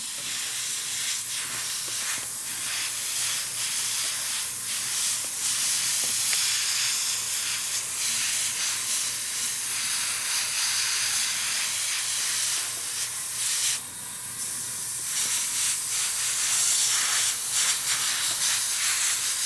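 Hairspray being sprayed over a scale model's groundwork gives a steady, close hiss that holds throughout with only slight dips, and no one speaks.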